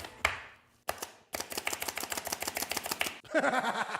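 A quarter onion is chopped in a small lazy kitchen chopper gadget, a fast run of sharp, close clacks in a steady rhythm after a few separate taps.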